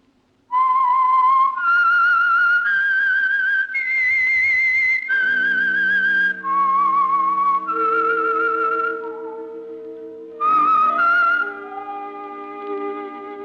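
A clear whistled melody of sustained, wavering notes, the theme tune of the radio mystery program The Whistler; partway through, soft steady music enters underneath and the whistling carries on over it.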